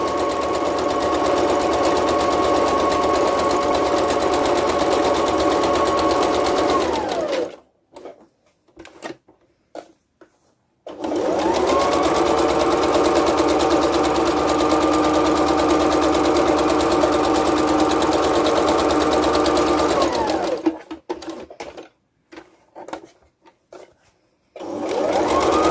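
A sewing machine stitches a cotton face covering in two long, fast, steady runs of whirring needle rattle, each winding down to a stop, with brief quiet handling gaps between.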